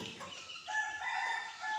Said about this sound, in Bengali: এগুলো সবগুলো হচ্ছে ফার্মে মুরগি